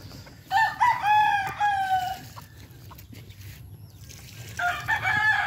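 Young roosters in open-air pens crow nearby, one long crow near the start and another at the end, with softer clucking and rustling in between.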